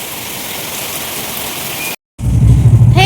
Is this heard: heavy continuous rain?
yes